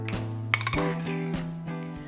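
Spoon clinking against a bowl while sprouts are tossed with salt and black pepper, a few bright metallic taps and scrapes at close range with no talking.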